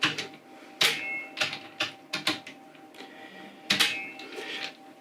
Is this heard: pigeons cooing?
no